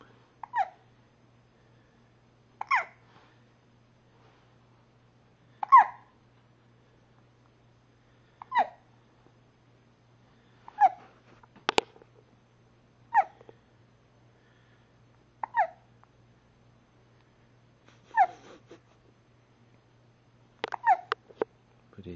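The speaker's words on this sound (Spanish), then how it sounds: "No te banca más el hipo ya, ¿no?" A baby hiccups steadily, about ten short soft hiccups spaced a couple of seconds apart, close up in an otherwise quiet room under a faint low hum.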